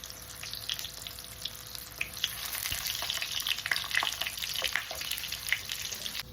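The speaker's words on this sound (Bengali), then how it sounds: "এগুলো সব এক পিঠ ভাজা হলে আরেক পিঠ করে উল্টে নিতে হবে" Paneer pakoras bubbling in hot oil in a kadai, a dense steady crackle and sizzle with sharp pops throughout, close and alone without talk.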